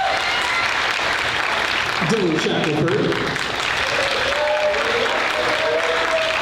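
Steady applause from a school audience at a middle school band concert, with a voice announcing names over the clapping throughout.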